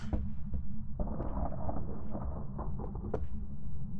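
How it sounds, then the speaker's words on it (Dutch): Thunder in the video game Phasmophobia, a deep rumbling roll that swells and lingers across several seconds, loud and low under a steady hum, with no voices. "Dat is onweer."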